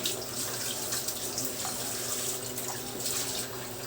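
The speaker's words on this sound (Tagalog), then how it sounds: "At maglagay po tayo ng kunting tubig lang." A small splash of water runs into a cooking pot while making pinangat na isda sa kamatis, a steady close trickling and pouring hiss lasting several seconds, with no talk over it.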